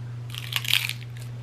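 Crunchy bites into a taco with kimchi, dipped in vegan butter with seasonings, onions and asparagus, heard as a short cluster of close, crisp crunches over a steady low hum, with no talk.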